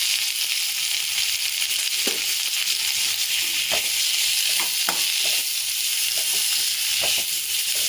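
Ivy gourd (kovakkai) sizzles steadily in hot oil in a pan, a continuous bright frying hiss with occasional soft clicks and pops, close and fairly loud with no voices.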